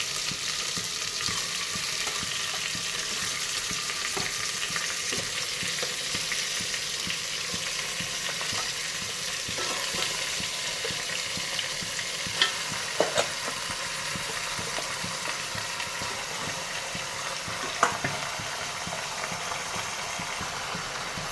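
Mutton and amaranth greens sizzle steadily in a pan, with a constant frying hiss and occasional scrapes and clinks of stirring, heard alone without speech.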